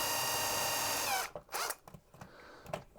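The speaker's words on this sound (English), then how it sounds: "Perhaps we can drill it a bit" A power drill whines loudly for about a second, then winds down, followed by scraping and clunking handling noises while drilling into a Gabriel/Marx Lone Ranger toy figure.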